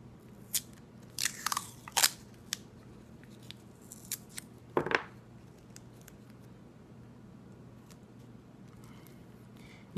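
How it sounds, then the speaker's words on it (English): Masking tape is torn from the roll and pressed down during rocket dual-deployment assembly, giving a few short, sharp ripping and crinkling bursts close up against a quiet room, followed by soft handling noises. "Now I'm going to take a piece of masking tape and cover that up."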